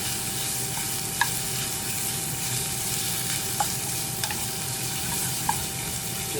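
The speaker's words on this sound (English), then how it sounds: "I've got it on high. So I'm going to try to get a sear on these." Meat searing in a pan on high heat for gumbo, a dense steady sizzle throughout with a few faint clicks of a utensil, close and continuous with no talking.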